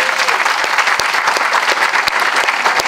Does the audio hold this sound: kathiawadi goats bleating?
no